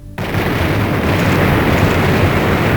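A barrel of TNT in the game Blood, set off by a flare gun, goes up in a loud booming explosion that roars on as a dense, sustained rumble filling the whole moment.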